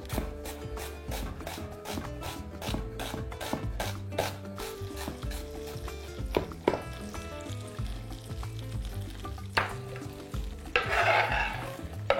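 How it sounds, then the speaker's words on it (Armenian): Two small finely chopped onions fry in a pan of heated olive oil and butter, a steady close sizzle broken by repeated stirring scrapes and clacks of a utensil against the pan, with no talking. "2 փոքր գլուխ սոխ մանր կտրատում և տապակում ենք։"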